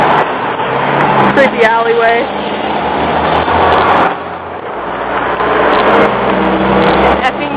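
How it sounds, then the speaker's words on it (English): Loud road traffic passing on Main Street in Hebron, a broad roar of vehicles swelling and fading close by, with a person talking over it. "pardon the loud traffic noises that may or may not be passing"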